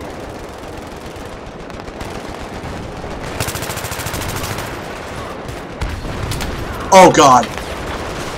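Gunfire in the video game Battlefield 3, rapid automatic bursts and a loud crackling blast near the end over a dense battle rumble, with a voice briefly speaking.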